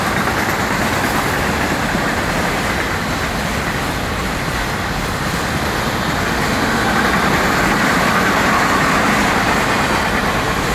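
An FEC freight train with a long string of empty auto racks rumbles past close by, a dense, continuous rolling roar holding steady without a break.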